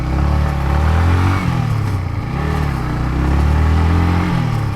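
A Yamaha MT-15 motorcycle engine runs close by with a steady, throaty low rumble whose pitch dips and rises slightly midway, then settles back to an even idle.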